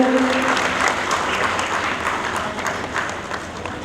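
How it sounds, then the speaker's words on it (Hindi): Loud applause fills a hall at a community gathering in India as a guest is called to the stage, dense continuous clapping from a large crowd that fades slightly toward the end. "जोरदार तालियों से सरजीत आर्या जी"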